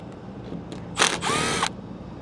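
A Milwaukee power tool spins a flip socket on a rusted screw, giving a short, sharp whirring burst of under a second against quiet background noise.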